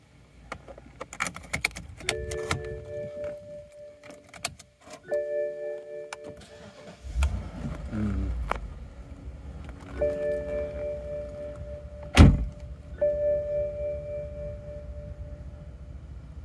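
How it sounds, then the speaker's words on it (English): Keys jingle, then the V8 engine of a 2006 BMW 650i Convertible cranks and starts, settling into a quiet idle, with a few chimes and clicks around it. "Let's hear what this vehicle sounds like."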